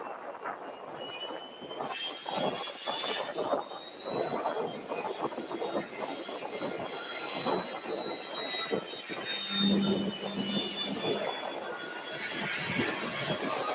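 A 28-year-old jet airliner throttles up on the runway, its engines building into a broad rushing roar with a rising whine that holds for several seconds at moderate distance.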